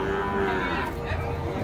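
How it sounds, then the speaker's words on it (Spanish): Dairy cows from San Carlos, Morazán moo at a cattle market, one low drawn-out call fairly close over a faint background murmur. "Aquí están todas estas bonitas y hermosas vacas que llegan de San Carlos, Morazán."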